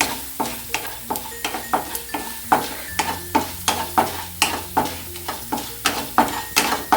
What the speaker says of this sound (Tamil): இதை முதல்ல கொஞ்சம் வதக்கிடலாம்.